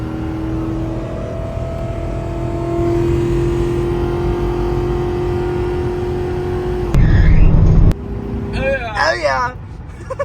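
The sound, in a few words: 2006 Ford Crown Victoria engine revving after water pump replacement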